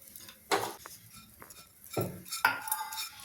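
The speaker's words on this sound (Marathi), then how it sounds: "पहिले मी हे खोबरं भाजून घेते आणि हे तेल न टाकताच भाजायचं." Grated coconut dry-roasts in a pan without oil while a metal spoon scrapes and clinks against it in a few quick, sharp strokes, fairly faint and close, with no talking.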